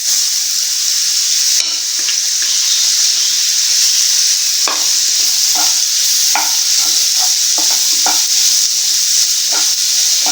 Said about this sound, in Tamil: இப்போ நம்ம வெட்டி வச்சிருந்தா மாங்காவை சேர்த்துடலாம்.